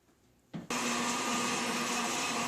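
An electric mixer beats carrot cake batter, kicking on after a brief start and then running as a steady, loud, continuous whir with no talking.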